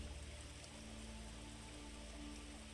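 Steady rain falling in a still outdoor setting, a continuous even hiss of drops with a low soft rumble and no break.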